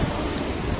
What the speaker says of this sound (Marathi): वारा सुद्धा भरपूर सुटला